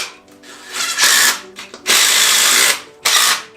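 Power tool bolts a plate onto the transfer case mounts of a truck: three bursts of drilling whir, near and loud, with short quiet gaps and faint ratcheting between.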